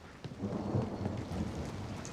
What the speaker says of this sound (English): it really looks like it's gonna start raining